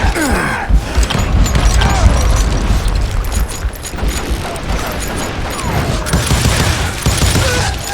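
Loud, continuous gunfire shootout in the western video game Call of Juarez Gunslinger, with rapid overlapping shots, booms and ricochets filling the scene without pause.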